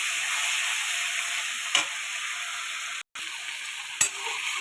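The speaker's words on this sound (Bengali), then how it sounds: "এইভাবে কচু শাকটা ঢেলে দেবে, দিয়ে অল্পটা আমি সাতলাবে" Drained taro leaves (kochu shak) hit a hot pan for a Bengali dried-fish dish, giving a steady, close hiss of frying with a couple of sharp clatters from a utensil and a brief gap.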